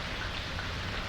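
Steady rain falls outdoors in a park, a dense, even hiss of drops pattering on surfaces, close and constant throughout with no voices.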